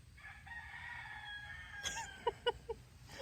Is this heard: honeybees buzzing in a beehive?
no